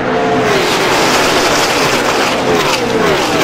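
Stock cars racing in a pack at Talladega roar past together in a dense, loud wash of engine noise that surges and fades as they pass, with no voices.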